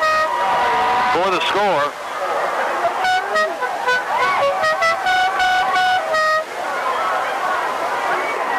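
Car horns honk outside at a high school football game in Lebanon, with several bursts of varied pitch and length, some overlapping. A commentator talks briefly over them.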